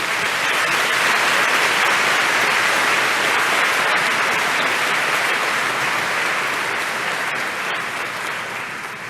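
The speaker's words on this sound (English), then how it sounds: "We end with a big applause and clap for everyone." Sustained applause from a conference audience at a medical education meeting in Vienna, a dense, loud wash of many hands clapping that tapers slightly toward the end.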